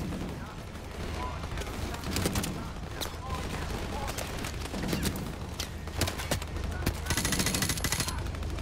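Rapid bursts of gunfire crackle through a Call of Duty Modern Warfare battle, with dense overlapping shots and automatic volleys throughout and voices talking over the fighting.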